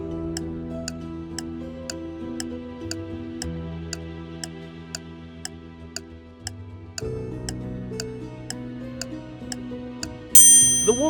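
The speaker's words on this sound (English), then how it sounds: "Time is ticking." A clock-ticking countdown effect plays as crisp, evenly spaced ticks over a low sustained musical drone that shifts pitch partway through, ending in a brighter chime-like burst.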